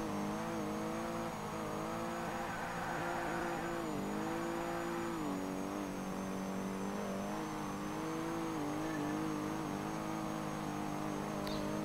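Corvette race cars in the PS2 racing game Toca Race Driver during a European championship race: a continuous loud engine drone with rising and falling pitch as the cars rev and shift, holding steady throughout.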